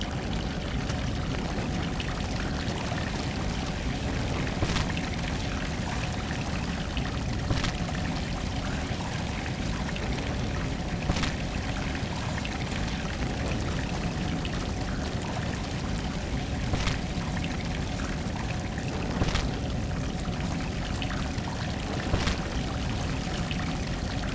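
Steady flowing water from the video game Salt and Sanctuary pours continuously at an even level, with occasional faint clicks and splashes over a constant rushing wash.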